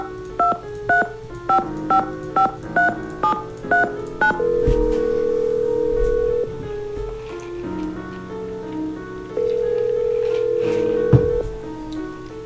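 A telephone is dialed in a Nancy Drew video game: a quick run of about ten keypad tones, then sustained ringing tones with a pause between them, loud and clear with no talk.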